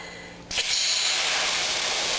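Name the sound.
steam hissing from a hot pan of mussels after lifting the lid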